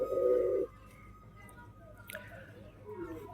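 A pair of Rajshahi pigeons kept in a home loft gives a low, close coo at the start. Quiet follows, with only faint rustles and small sounds in the background.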